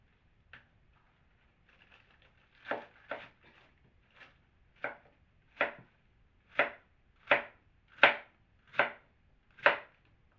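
Knife chopping Chinese cabbage on a cutting board: about a dozen crisp, close thuds, sparse at first and then settling into a steady, fairly even rhythm, with no talking.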